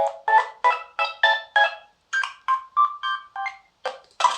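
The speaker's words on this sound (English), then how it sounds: "Or the ringtone is like laggy." A synthetic phone ringtone on a Redmi 5 running Flyme ROM plays a quick, laggy melodic sequence of bright tonal notes, with a brief pause midway before the pattern resumes.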